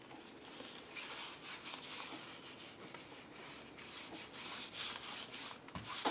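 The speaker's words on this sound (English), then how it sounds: "I'm going to take my magazine page and put it down." A magazine page is rubbed down onto a gesso-covered substrate, giving a continuous dry scratchy rubbing with repeated short strokes, close and fairly quiet.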